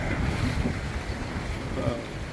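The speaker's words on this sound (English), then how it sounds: "So, anyway, we're sailing out." A Beneteau sailboat sails out under steady wind, with broad, continuous rushing noise and wind buffeting the microphone. Water and wave wash sit beneath it, and nothing else stands out.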